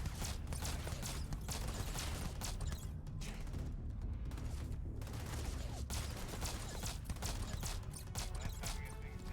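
Rapid rifle fire in the video game Starfield, bursts of gunfire packed into a dense, loud, continuous barrage with mechanical clatter running throughout.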